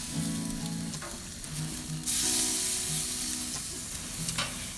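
Buffalo steak sizzling on a gas grill, a steady close frying hiss with crackles and pops that swells midway, with no talking.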